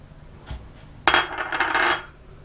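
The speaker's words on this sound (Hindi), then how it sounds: "नमक डालती हूँ।" Salt is poured into rice cooking for a Degi Tikka Masala Pulao, giving a close, granular patter and hiss that lasts about a second. A couple of faint taps come before it.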